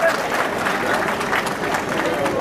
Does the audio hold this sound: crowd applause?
yes